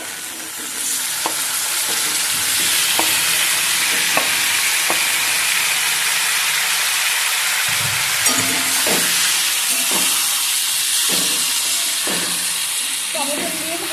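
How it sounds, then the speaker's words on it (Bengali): Tomatoes frying in a pan, a loud continuous sizzle with regular spatula taps and scrapes as they are stirred, steady throughout. "ভালো করে ভেজে নেব টমেটম ভালো করে ভেজে নিয়েছি টমেটম গলে গেছে"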